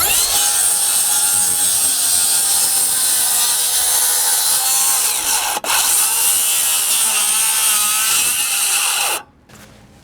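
A reciprocating saw cuts through wood framing during a house build, a loud, steady, buzzing rasp that runs continuously close by, with a brief catch midway before it abruptly stops.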